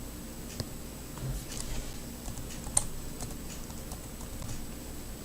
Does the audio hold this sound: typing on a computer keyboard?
yes